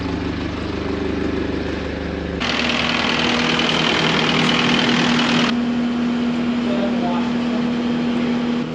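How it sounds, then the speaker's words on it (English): A forklift's engine idles and runs steadily on a farm, a low droning hum with a louder, rougher stretch in the middle before settling back to idle. "The only hard part about running around with a forklift today"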